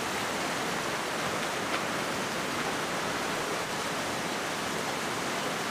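A steady, hissing rush of falling water from a secret waterfall near Rishikesh, broadband and unbroken, heard from close by with no other sounds over it.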